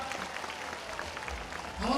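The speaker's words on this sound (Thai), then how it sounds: "เสียงปรบมือให้กับอภิสิทธิ์เวชาชีวะ" Crowd applause at an outdoor political rally, a diffuse wash of clapping with an amplified voice speaking over it, rising louder toward the end.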